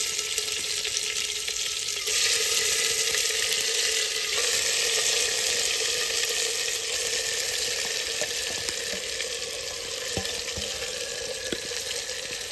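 Chicken pieces, leg pieces among them, fry in hot oil in a clay pot with a loud, steady sizzle and crackle that runs throughout, with occasional stirring scrapes and no talking.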